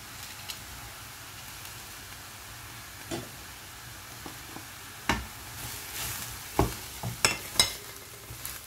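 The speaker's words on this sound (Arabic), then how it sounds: "là j'ai rajouté l'ail pour que ça cuise en même temps que les oignons." Garlic fries with onions and red peppers in a pan, a soft steady sizzle with a few sharp spoon scrapes and clinks of stirring toward the end.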